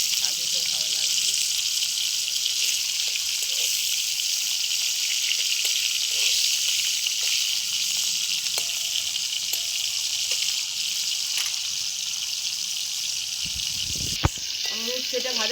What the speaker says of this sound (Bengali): এবার উচ্ছে ভেজে নিচ্ছি, একটু লবণ দিয়ে দেবো অল্প একটু।